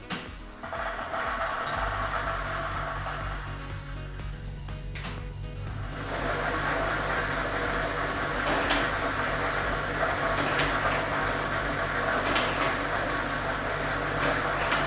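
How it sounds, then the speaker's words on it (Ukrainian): A lottery ball machine (drum B, ball set no. 3) runs for a Ukrainian state Loto Maxima draw, giving a continuous dense rushing whir with scattered clatter of tumbling balls, loud and steady throughout, with no voices. "І ми вмикаємо. Лототрон."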